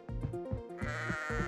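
Sheep bleating in the video game Lila's Sky Ark, a short run of four or five close, clear bleats in quick succession with no talk over them.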